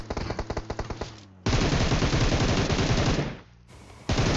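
Rapid automatic gunfire in PUBG, loud and close: a short stuttering burst, then a long sustained stream of shots, a brief pause, and firing resumes, with no talking.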